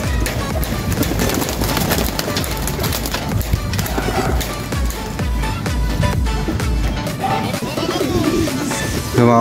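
Racing pigeons and a breeder bird let out of a loft make a busy burst of flapping and fluttering, with cooing and rustling mixed into a loud, cluttered scene that has some faint background voice.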